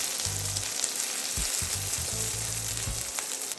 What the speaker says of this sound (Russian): В разогретом масле хорошо обжариваем лук